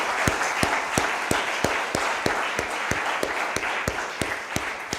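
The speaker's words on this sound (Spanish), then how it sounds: "Denle un aplauso a Dios" A church congregation claps steadily in a brisk, even rhythm, each clap sharp and distinct, the applause filling the room for several seconds without any speech.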